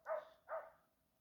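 A dog gives two quick barks a short way off, moderately faint, the second fading out slowly, with no talking over them.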